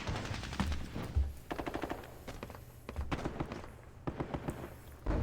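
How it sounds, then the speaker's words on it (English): Tank supporting fire in the Vietnam war game Squad Battles Vietnam, set in Hue City in 1968: rapid machine-gun bursts and scattered gunshots crackle in quick clusters, fairly quiet, with no talking. "Got some supporting fire from the tank"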